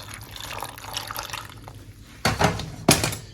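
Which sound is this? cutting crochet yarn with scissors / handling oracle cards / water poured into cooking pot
water poured into cooking pot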